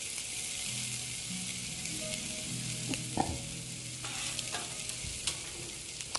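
Rice with a little orange frying on a Blackstone flat-top griddle, a steady broad sizzle across the whole stretch, with a few sharp scrape clicks of a spatula toward the middle and end.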